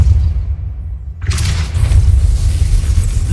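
A Depulso spell in the Hogwarts Legacy video game fires off as a sudden, loud whooshing blast with a bright burst of noise, set over a constant low in-game rumble.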